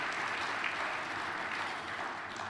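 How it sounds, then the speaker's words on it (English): Audience applause at a high school award ring ceremony, a steady wash of clapping from many hands that fills the whole stretch without letting up. "Yes, give them a round of applause,"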